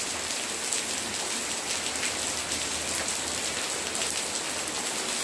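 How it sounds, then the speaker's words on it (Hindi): Heavy rain pours down in a steady, dense hiss, loud and continuous throughout with no pauses and no voices. "देखो आप देख रहे हो कितनी ज़्यादा बारिश हो रही है।"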